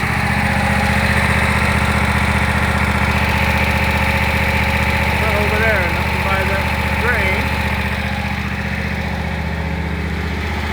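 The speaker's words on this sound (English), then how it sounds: "I'm running the engine to check for any kind of leaks." A tractor engine idles steadily after an oil change, a loud, even mid-pitched rumble with a strong low hum that holds throughout, and brief voices speak over it near the middle.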